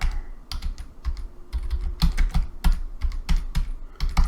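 Quick bursts of clicky keystrokes on a computer keyboard as a search keyword is typed, close and crisp, with brief pauses between groups of presses and no talking.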